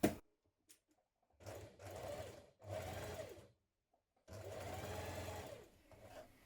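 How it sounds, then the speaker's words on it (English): A sewing machine stitches down the back hems of a dress in three bursts, each a steady, close mechanical whir, separated by short quiet pauses and a few faint clicks. "Then we're going to stitch down each of those back hems as close to the raw edge as possible."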